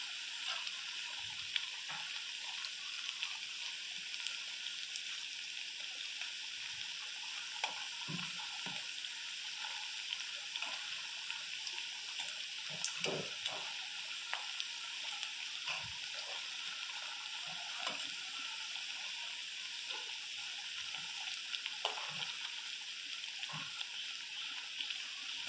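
Vadai frying in hot oil, a steady bright hiss and crackle of sizzling batter that runs continuously throughout, with occasional soft knocks of a utensil turning the pieces.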